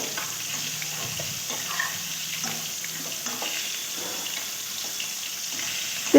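Bitter gourd frying in fish oil while being stirred, a steady broad sizzle with scattered soft scraping and clinks from the stirring, close and continuous with no talk.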